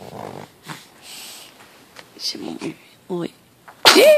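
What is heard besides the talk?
sneeze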